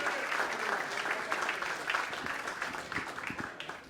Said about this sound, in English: let's give him a round of applause, Joe